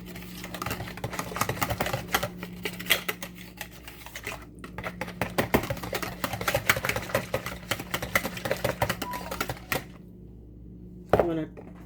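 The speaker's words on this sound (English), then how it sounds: "I should just use a whisk and just whisk it out." A whisk beats bread pudding mixture in a bowl with rapid, irregular clicking and tapping strokes against the sides, close and moderately loud, with a low hum underneath and a brief pause near the end.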